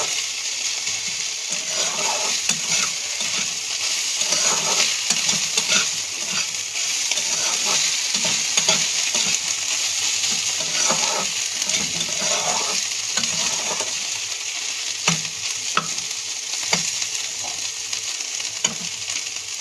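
Prawns frying in a little oil in a home kitchen, a steady close sizzle with occasional scraping stirs running the whole way through, with no talking.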